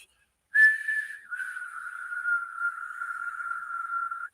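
A thin, steady synthesized whistle tone imitating tinnitus ringing starts sharply, dips slightly in pitch and then holds unbroken for several seconds, clean and alone.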